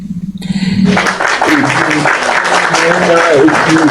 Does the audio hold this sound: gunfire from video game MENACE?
no